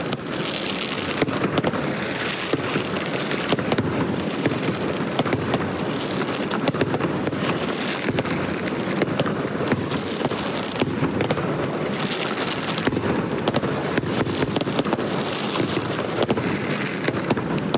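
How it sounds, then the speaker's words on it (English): Fireworks set off to celebrate an American presidential election win, a dense, steady crackle of many bursts and pops that runs without a break, loud and without voices. "Fireworks were set off, celebrating the historic win."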